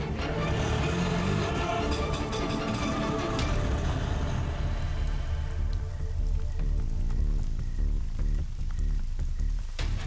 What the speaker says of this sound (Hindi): बारिश में भीगिए मत